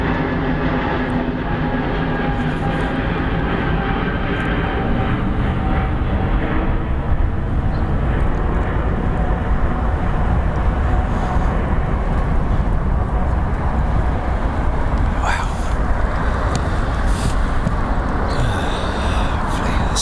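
A Sands Corporation VIP Airbus A340-500 departs Heathrow Airport, its jet engines producing a sustained, broad rumbling roar that holds steady throughout, with no talk.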